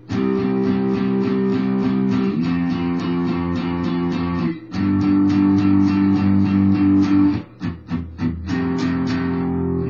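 Guitar plays the intro of a song slowly with sustained, ringing chords, a few short pauses and choppier strums near the end; no voices.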